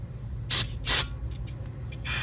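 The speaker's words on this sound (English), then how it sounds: "So I'm gonna spray it with this." Three bursts of aerosol cleaner sprayed onto the ABS wheel-speed sensor of a 2012 Toyota RAV4, short hissing blasts at close range with a steady low hum underneath.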